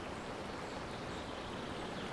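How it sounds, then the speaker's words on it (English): Steady running water ambience for a water channel flowing through a Unity 3D game level, a dense continuous rushing wash with no breaks, fairly soft and alone. "such as the water running through the level"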